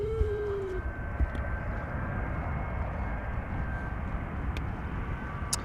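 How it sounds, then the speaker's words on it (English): An Austrian-registered EasyJet Airbus A320 arriving at Amsterdam Schiphol from Venice produces a faint, steady distant jet rumble with a thin whine, low and continuous beneath ambient noise. "A320 EasyJet arriving from Venice."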